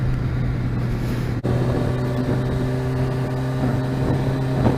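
A Kawasaki ZX-6R motorcycle rides through an evening run, its engine a steady, loud drone with strong low harmonics and a brief dip partway through, accompanied by constant wind rush.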